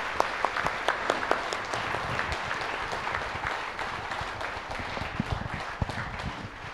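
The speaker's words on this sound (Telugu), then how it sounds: "ఒక్కసారి మీరందరూ కూడా మీ చప్పట్లతో మీ ఆశీర్వాదాలు తెలియచేయండి" An audience at a 50th birthday celebration applauds in a sustained patter of many hands, moderately distant, with a few sharper individual claps standing out.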